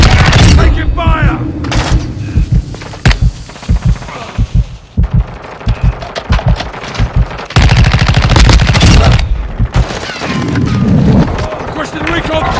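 Rapid bursts of gunfire in a battle royale video game, loud and close, with machine-gun volleys and single shots broken by brief pauses, mixed with heavy impact thuds and shouted voices.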